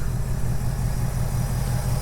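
A 2024 Ford Mustang GT's 5-liter engine idles steadily, a low, even rumble with a fast pulsing beat, close and constant throughout with no voices.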